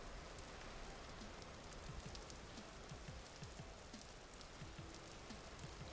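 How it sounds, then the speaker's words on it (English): Ambient rain in the video game Vintage Story, a steady dense hiss of falling drops with scattered faint pattering, even and unbroken throughout. "The sound of rain, but no actual rain?"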